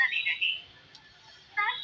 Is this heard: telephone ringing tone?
yes